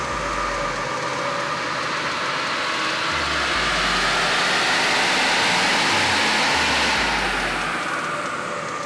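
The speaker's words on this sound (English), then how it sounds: "From our baseline dyno test, we did two just to make sure it's repeatable." A Ford F250 truck engine runs on a dyno during a baseline test, a loud, steady, broadband roar with a deep rumble that holds continuously throughout, with no voices.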